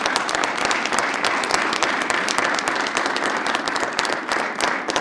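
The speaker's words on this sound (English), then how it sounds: "Let's give them a nice round of applause." Audience at a city council meeting breaks into sustained applause, dense steady clapping from many hands throughout with no talk over it.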